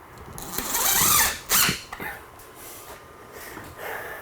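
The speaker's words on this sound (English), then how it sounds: "We're screwing it to the hat channel." A power screwdriver drives screws through 5/8-inch fire-rated drywall into ceiling hat channel, producing a loud whirring buzz about a second long, then a sharper second burst, followed by quieter handling noise.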